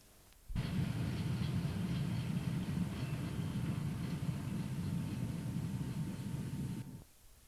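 A train crossing a viaduct over a road on the outskirts of Tickhill on the Harworth branch line: a steady loud broadband rumble and roar starting abruptly and sustained for several seconds before cutting off, with no talk.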